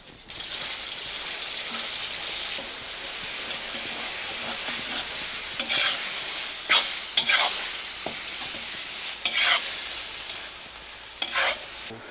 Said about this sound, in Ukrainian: Друзі, я обсмажував фарш до розсипчастого стану.